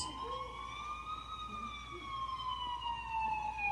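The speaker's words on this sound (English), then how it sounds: "I finally heard sirens in the distance." A police siren wails, sweeping slowly up and down, carrying from a distance over a low background rumble.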